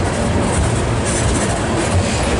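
CPKC freight train rolling past up close, a dense continuous rumble of rail cars with rhythmic wheel clatter on the track, loud and steady throughout.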